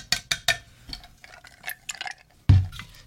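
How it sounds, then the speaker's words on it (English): 151 rum is poured over ice in a glass, giving quick dripping and splashing bursts that end in a louder clink near the close, all near and fairly quiet. "I'm gonna pour that right over the ice."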